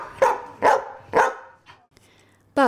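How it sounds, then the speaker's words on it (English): Greyhounds bark in a loud, echoing kennel: three strong barks spaced evenly, then a fainter yip and a sharp final bark. "From all the barking in the kennels"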